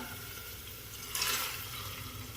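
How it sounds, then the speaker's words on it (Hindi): Water poured into a pot holding chana dal, a short splashing pour that rises suddenly, lasts about a third of a second and then fades into a quiet background. "और इसमें हम कुछ पानी मिलाएंगे दाल के गलने के लिए। 1 प्याली पानी मिला दिया हमने।"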